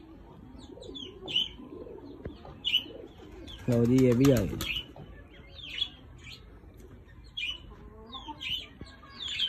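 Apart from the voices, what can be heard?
pet pigeons cooing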